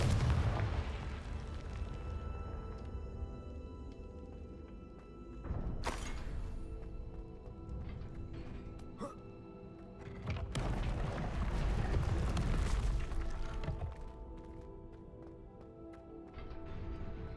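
The Confringo fire spell in the video game Hogwarts Legacy sets off booming explosions, with a heavy blast at the start and sharp bursts near six and ten seconds, each decaying into rumbling, crackling debris.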